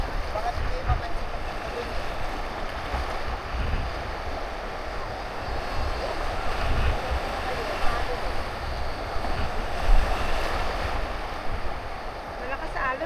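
Strong ocean waves wash onto a beach in Boracay, a steady broadband rush with gusty wind, and people talk over the surf at moderate distance.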